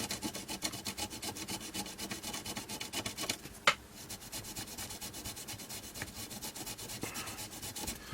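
Circuit board pads on an Amiga 600 computer are rubbed clean by hand, a close, quiet, rhythmic scratchy rubbing of quick even strokes with one brief sharp click midway and no speech.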